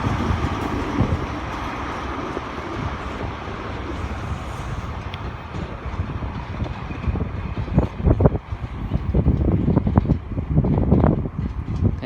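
A Great Western Railway Castle set in green livery with sliding doors rumbles through Exeter St David's station, a broad low roar with wind buffeting the microphone and heavier clunks and surges building toward the end.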